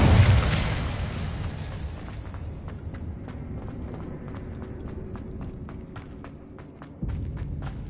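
Incendio fire spell cast in Hogwarts Legacy on PS5, a loud whooshing burst of flame at the start that fades into a crackling, sputtering burn with a fresh flare near the end.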